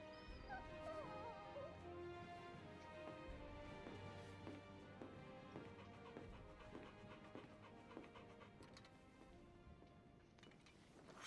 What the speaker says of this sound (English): That's the same dog that you carry around in Diablo.